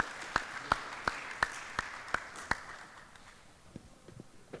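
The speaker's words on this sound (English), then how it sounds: "Can we all give a huge round of applause" A handful of sharp, evenly spaced claps ring out at an electronics industry conference session, about seven distinct beats, then fading into quieter scattered sounds.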